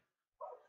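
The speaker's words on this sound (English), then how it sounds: "my dog is really annoying" A single short, faint dog bark rises suddenly after a brief quiet moment.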